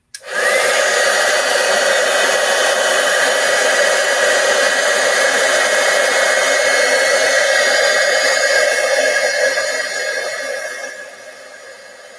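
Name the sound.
heat tool melting embossing powder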